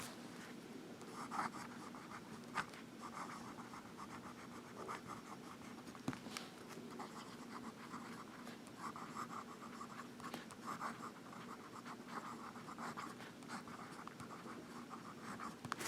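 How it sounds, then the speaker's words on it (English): A Visconti fountain pen scratching steadily across paper, faint and close, with soft continuous strokes and occasional small taps over a quiet room hum. "we'll do some writing"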